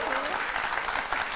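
A studio audience claps together on a Halloween-themed talk show, producing a steady, dense wash of applause with voices mixed in throughout.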